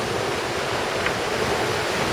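Strong wind and ocean waves rush past a sailboat running at speed toward Hawaii in 18 to 20 knot winds, a steady loud broadband roar with no distinct breaks and no voices.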